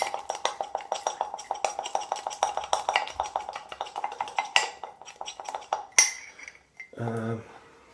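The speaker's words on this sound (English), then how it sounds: "I'm going to keep mixing it. You have to keep mixing it." A spoon clinks rapidly and rhythmically against the inside of a cup while whipping frothy coffee, steady close tapping for several seconds, then a sharper clink and a brief low hum near the end.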